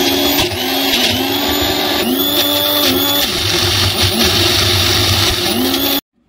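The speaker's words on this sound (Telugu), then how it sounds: "మంచిగా మిక్సీ పట్టుకోవాలి." Mixer grinder whirring loudly and steadily as it grinds tomato, green chilli, onion and peanut chutney, a continuous motor drone with shifting pitch that runs for about six seconds and then cuts off abruptly.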